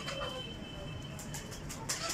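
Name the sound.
pigeon cooing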